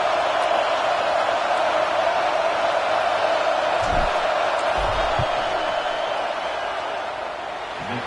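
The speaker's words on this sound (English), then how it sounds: "This crowd trying to do its part to get inside the kicker's head" Stadium crowd at a college football game between USD and Notre Dame roars steadily in a broad, continuous wash as a field goal attempt is lined up, loud and sustained throughout, easing slightly toward the end.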